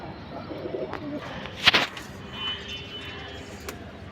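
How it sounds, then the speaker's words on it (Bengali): Restless pigeons being handled for coloring give a few soft, low coos and brief fluttering bursts nearby, mid-clip, over a quiet outdoor background. "খুবই ছটফটে এই কবুতরগুলা, মানে ধরাই যায় না, কাছে গেলেই হু হু হু হু করে"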